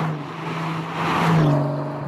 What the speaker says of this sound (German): Das ist einfach ein schöner BMW-Klang.